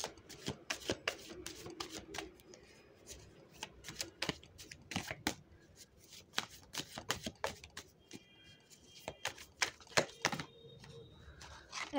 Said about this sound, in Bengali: একসাথে এতগুলো কার্ড পড়ে যাচ্ছে কেন বুঝতে পারছি না